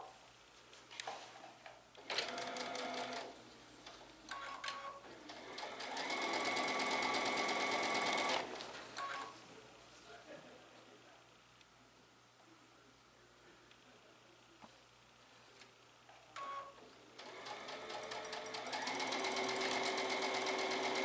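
A sewing machine stitches pieces of a quilt block in several bursts of steady whirring, with quiet pauses between runs; no one speaks.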